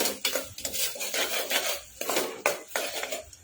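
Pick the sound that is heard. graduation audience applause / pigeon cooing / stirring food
stirring food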